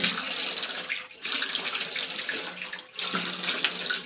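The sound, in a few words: face being washed with cold running water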